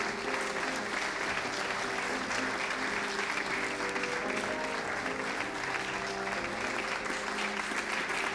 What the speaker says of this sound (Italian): Milo Vallone, accogliamolo con un applauso.